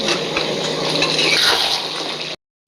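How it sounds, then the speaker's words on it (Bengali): Mutton head curry being stir-fried in a pan: a steady, loud wet sizzle with continuous stirring and scraping, close up and without voices, ending abruptly. "তো এইভাবে একটু কষাতে হবে"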